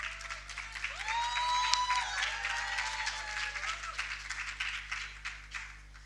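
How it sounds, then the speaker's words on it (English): An audience at the EmpowHERSA CPUT conference applauds as a presenter comes forward. Dense, steady clapping fills the room for about six seconds, with thin whistle-like tones drifting over it. "let's please give a round of applause as Thandile comes forward"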